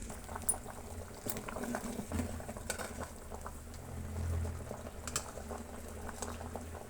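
Horse gram sambar simmers in a covered pot, giving a soft, irregular bubbling and popping at low level, with faint clicks and patter scattered across the whole stretch.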